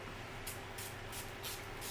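Several short bursts of fine perfume spray from a freshly opened bottle of HAUTS Bijou fragrance, about five quick hissing puffs in a steady rhythm, close and fairly soft over a low background hum.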